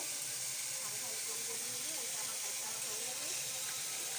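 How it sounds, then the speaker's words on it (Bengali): Fish roe masala sizzles and hisses steadily in a pan with yogurt as it is sautéed, a constant faint frying noise with no clear breaks. "টক দইটা দিয়ে ভালো করে কষাবো"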